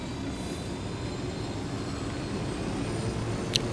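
Steady, loud helicopter rotor-and-engine drone in the video game Ghost Recon Wildlands fills the whole stretch with a constant low rumble, broken only by a brief sharp click near the end.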